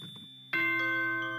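Chime from a school announcement in the Danganronpa video game: a short soft tone, then a louder bright two-note ding-dong with a sustained ringing tail, heard alone with no voices.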